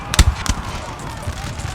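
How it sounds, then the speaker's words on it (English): Canister shot from artillery fires in a Napoleon Total War battle, two sharp cracking bursts near the start followed by a low, rumbling battlefield din, with no clear voices on top. "Canisters firing."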